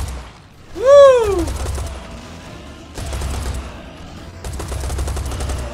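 Gunfire from a weapon in Serious Sam 4, heard as bursts of rapid shots from around 3 s onward, following a loud descending whistling effect near the start, with the shots fairly close and steady.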